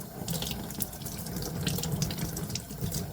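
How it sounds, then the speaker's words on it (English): Warm tap water runs steadily over a Canon Pixma MX722/MX922 printhead, a continuous close splashing hiss at an even level from start to finish. "we can just run it under some warm water"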